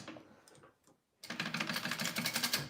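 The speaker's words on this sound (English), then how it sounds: "we're gonna sew along the line that we made on our card slots" A sewing machine stitches along the card slots of a wallet. After a short hush it starts up and runs in a fast, even mechanical chatter of close needle strokes that lasts to the end.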